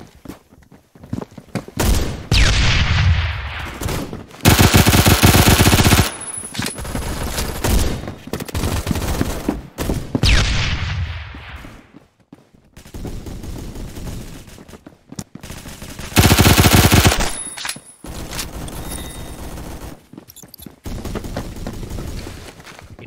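Bursts of automatic gunfire from the Roblox game Phantom Forces, loud dense volleys recurring in several clusters with brief quieter gaps, footsteps in between and no talking.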